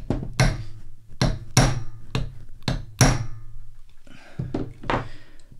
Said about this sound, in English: So what we've got to do now is just drive these pins